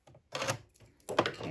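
A sewing machine stitches a V-neckline in two short rattling bursts, close and clear, with brief quiet pauses around them.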